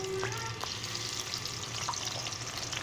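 Onion fries in hot cooking oil, a moderate sizzle that runs steadily with a few light clinks and stirring scrapes near the start.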